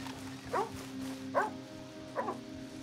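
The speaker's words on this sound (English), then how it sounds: "A dog." In Red Dead Redemption 2, a dog gives three short, soft barks or yips spaced about a second apart over a low game-ambience hum, with no speech.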